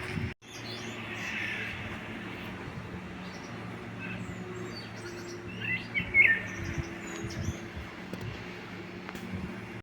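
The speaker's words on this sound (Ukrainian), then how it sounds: "Співають нам пташечки." Faint chirps and short bird calls come and go in a garden in Kraków over a steady low background hum, with a few brighter twittering bursts toward the middle.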